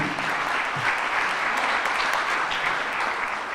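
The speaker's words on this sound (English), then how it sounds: "So a round of applause for them and for you." Steady applause from an audience at a civic 'State of the City' gathering, a dense continuous wash of many hands clapping at moderate loudness throughout.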